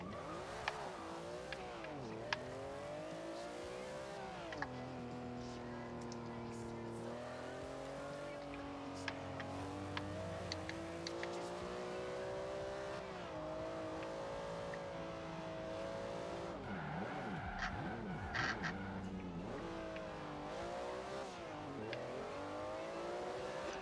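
A RUF RT 12 S drifts in Forza Horizon 2 on Xbox One, its engine howling and revving in rising and falling pitches throughout, while someone talks faintly in the background.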